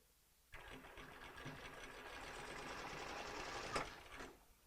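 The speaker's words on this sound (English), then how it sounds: "Lock stitch to start, and then roll down with your 1/2 inch roll hem." A sewing machine running through a half-inch rolled hem on hammock fabric, starting abruptly after a quiet moment into a fast, steady mechanical whir and rapid stitching chatter, close and continuous for about four seconds before stopping.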